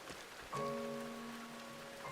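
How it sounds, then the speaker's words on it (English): Light rain patters steadily in a video game, a soft, faint hiss of drops on surfaces with a brief tonal game sound layered over it. "Because this rain ain't that heavy."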